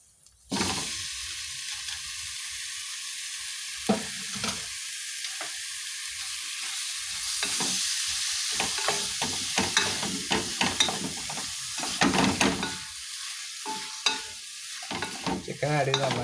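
Chicken pieces sizzling and frying in an oily masala for a homestyle chicken curry, stirred with a spoon that scrapes and clatters in the pan. The hiss is loud and continuous and runs throughout without any talk.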